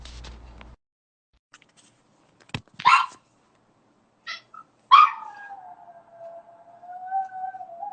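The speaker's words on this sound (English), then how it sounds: "my dog Millie really wants to join the call" A dog barks a few sharp times and then lets out a long, wavering howl that trails on for several seconds, close by in a quiet room, with a brief low hum at the start.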